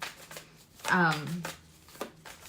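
Tarot cards are shuffled in quick papery riffles and soft flicks close to the microphone, with a brief voice breaking in partway through.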